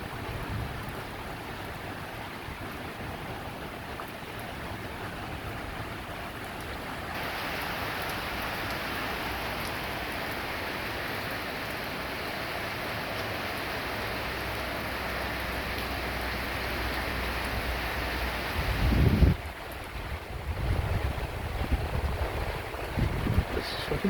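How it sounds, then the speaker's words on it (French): Heavy rain from large drops pours down during a moderate summer thunderstorm, a dense, constant hiss that swells after a few seconds. Gusting wind and a low rumbling thump come late in the clip. "Les grosses gouttes qui tombent"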